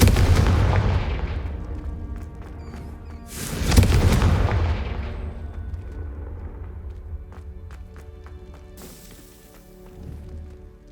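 Repeated Confringo fire-spell explosions in Hogwarts Legacy, several heavy booming blasts with rumbling tails, loudest around the middle, in a continuous game soundscape with no talk.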